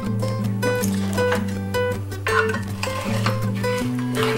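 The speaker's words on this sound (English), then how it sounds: "Just want to mix this up" A sugary, gooey mixture is stirred in a bowl, a steady run of scraping and clinking strokes against the side, close and fairly loud, with no talking.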